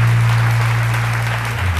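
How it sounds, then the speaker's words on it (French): Audience applause in a television studio during a midday talk show, a steady wash of clapping under a loud low electrical hum throughout. "On va leur dire au revoir avec des applaudissements."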